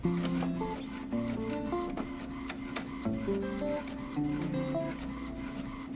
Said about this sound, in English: So printing out some of the documents that we're gonna be mailing off